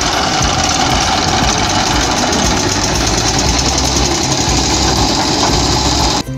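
A tractor engine idles at a sugarcane weighbridge where farmers bring cane to be weighed, a loud, steady diesel rumble with a knocking throb that continues unbroken, with no talking.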